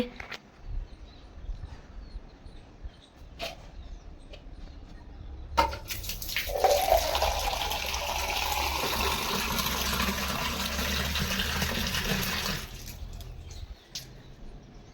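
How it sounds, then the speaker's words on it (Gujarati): After a few quiet seconds with faint bird chirps, water pours steadily into a birds' water bowl for about seven seconds, then stops. "આપણે છે ને કુંડામાં પાણી નાખી દઈએ"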